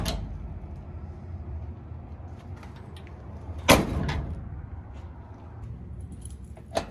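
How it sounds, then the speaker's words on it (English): Driver's side door of an International Scout II opening, its hinge sagging; a metallic latch clack and a sharp click midway, with faint key jingles, a later tap, and low background rumble. "The driver's side door hinge sags a bit when open."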